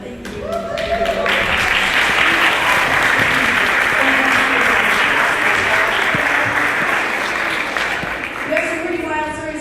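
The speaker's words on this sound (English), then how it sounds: "Round of applause." Audience applause at a luncheon gathering, a dense, steady round of clapping with talk audible at the start and end.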